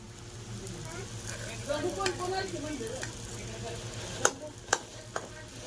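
Sabudana and peanuts stirred and frying in a pan for khichdi: a steady low sizzle with scraping stirs through the middle and a few sharp spoon taps against the pan near the end, close and moderately loud.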